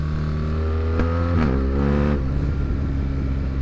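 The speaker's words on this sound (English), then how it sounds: "if you have an R1300 machine, you definitely need the Van Demon exhaust" A BMW R 1300 GS motorcycle fitted with a Van Demon exhaust idles with a deep, steady throb, then gives two sharp throttle blips that rise and fall back to idle.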